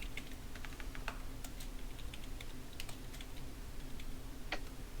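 Typing on a computer keyboard at a Dungeons and Dragons game session, rapid irregular key clicks close by and fairly quiet over a steady low background hum, with no talking.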